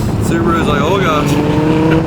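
A Ford GT sports car is driven hard on the twisting mountain road of the Tail of the Dragon, its engine droning loud and close from inside with wavering pitch through the corners, while a voice talks over it.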